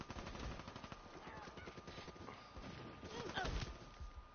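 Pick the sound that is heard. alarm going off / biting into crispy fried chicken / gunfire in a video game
gunfire in a video game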